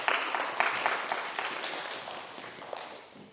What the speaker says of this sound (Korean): 우리 박수 한번 격려하겠습니다